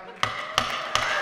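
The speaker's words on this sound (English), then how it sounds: "This is the sound of a gavel." Three sharp wooden knocks of a gavel, evenly spaced and fairly close, with a faint room hum between strikes.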